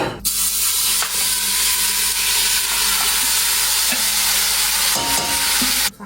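Chillies frying in hot oil and being stirred for biryani, a loud continuous sizzle with scraping stir strokes, close up and with no talk.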